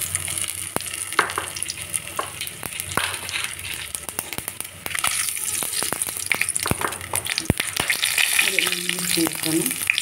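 Mustard seeds and cumin crackle and sizzle in hot oil in a pan, tempering for a brinjal chutney, with sharp irregular pops over a constant frying hiss.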